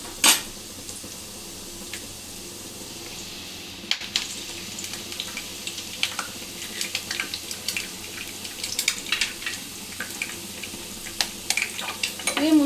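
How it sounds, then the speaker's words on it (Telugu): Beaten eggs frying in hot oil in a pan for street-style Schezwan egg fried rice, a steady sizzle with scattered crackles and pops rising after a sharp clatter partway through, close and alone. "ఆయిల్ వేడి కాగానే ఇప్పుడు ఎగ్స్ ఇట్లా కొట్టుకొని పోసుకోవాలి"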